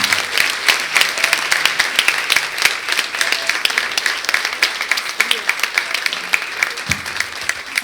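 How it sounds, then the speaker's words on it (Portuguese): A church congregation applauds at a women's congress, steady dense clapping filling the room throughout, with a loud crowd close by and a brief louder burst near the end. "Aplauda o Senhor."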